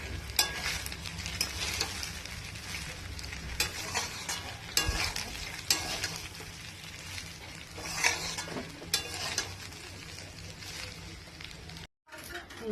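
Rice stirred and mixed with vegetables in a pan, a steady scraping and clatter of a utensil over a soft sizzle, with brief sharper knocks against the pan throughout.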